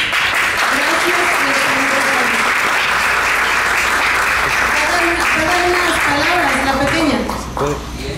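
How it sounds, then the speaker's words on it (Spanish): Loud, sustained applause from a crowd fills the space for several seconds, with a voice speaking over it before it tapers off near the end. "un gran aplauso"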